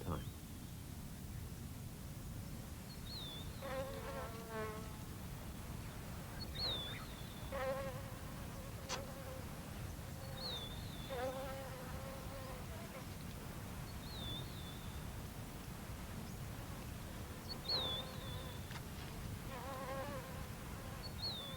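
Flies buzzing around wild animals such as a cheetah and agama lizard on the savanna, faint repeated whining passes that drift in and out over a low steady background hiss.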